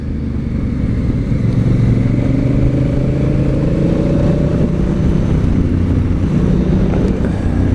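Honda CRF1000L Africa Twin motorcycle with manual gearbox riding along a road, a steady loud engine drone with wind rush over the microphone, no talking.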